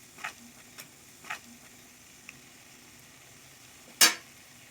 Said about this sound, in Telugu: బాగా కలుపుకోవాలి. కలపడం ఆపేసారంటే అడుగంటిపోతుంది.